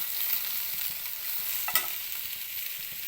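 Chopped okra stir-frying in a pan gives a constant soft sizzle, with one brief scrape of the spatula partway through.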